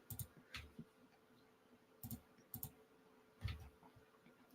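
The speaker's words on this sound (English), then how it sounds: "That clicking is probably loud for you guys, too." Sharp clicks in a quiet room during a digital drawing session, arriving in scattered clusters of a few taps with pauses between, moderately close and alone with no talk.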